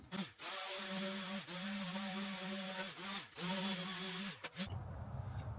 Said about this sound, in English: I'm gonna come through with my sanding disc and just clean up a lot of the slag